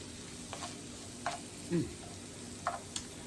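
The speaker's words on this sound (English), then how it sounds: "we're going to let this saute" Cabbage, sausage and shrimp sauté in an oiled pan, a quiet steady sizzle underneath a few faint scrapes and clicks of stirring, one slightly louder clatter near the middle.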